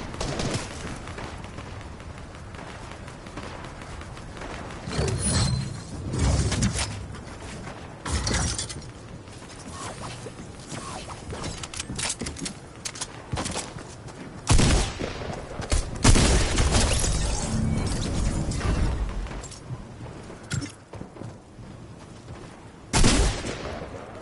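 Gunfire in Fortnite, with repeated shots and bursts scattered through a busy game mix, some loud nearby volleys and crashing impacts.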